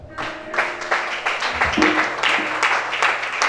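Congregation clapping together during a church worship and deliverance service, a steady, full burst of applause that fills the room and stays loud for a few seconds.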